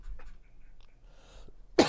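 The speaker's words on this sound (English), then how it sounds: "so sorry for coughing all over the stream" One sharp, close cough bursts out near the end of a stretch of quiet murmuring and room noise during a casual livestream chat.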